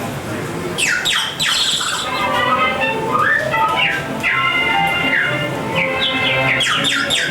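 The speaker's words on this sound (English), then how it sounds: "We have a bird whistle." A water-filled bird whistle warbles and flutters, trilling in rapid bird-like chirps and squawks, loud and close, repeating in bursts.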